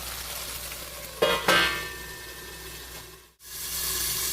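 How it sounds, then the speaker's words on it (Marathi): Onion masala frying in oil under a lid for prawn masala makes a steady muffled sizzle, with two sharp knocks early on and a brief dip to near silence before the sizzle returns. "कांद्यामध्ये तेलामध्ये चांगला परतून घेणार आहोत त्याला तेल सुटेपर्यंत"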